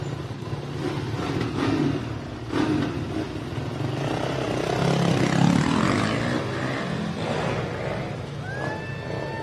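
A Yamaha 704X race motorcycle at the Baja 1000 start, its engine droning and building in a rough rising roar close by, set against a steady outdoor rumble.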